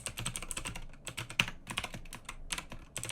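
Code typed on a computer keyboard while programming a C# do-while loop: quick, close bursts of clicky keystrokes in uneven runs with brief pauses between them.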